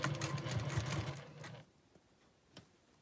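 A sewing machine stitches quilt triangles in a close, whirring run of about a second and a half, then stops, leaving faint handling clicks.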